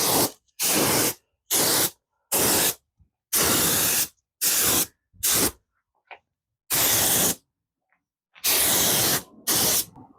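An aerosol can sprays flat black paint onto RV rims in a rapid series of short hissing bursts separated by silent gaps, close and loud.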